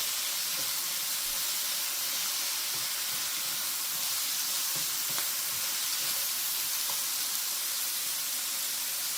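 Cabbage hisses and sizzles in a hot pan for niku yaki udon, a loud, continuous broadband frying noise that holds steady throughout, with faint clinks underneath.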